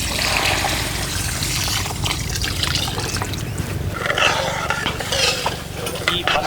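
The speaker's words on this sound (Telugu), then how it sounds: "2 కప్పుల పంచదార వేసుకొని 1 కప్పు నీళ్లు పోసేసుకుందాం." Water poured into a kadai of sugar for syrup, a loud close gushing trickle and splash running steadily throughout, with a few faint scrapes.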